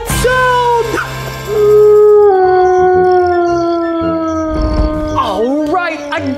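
A wolf howls in a long, rising and falling wail that carries loudly across the clip, with a second howling voice joining near the end; the cartoon sound effect is heard alone, with no speech over it.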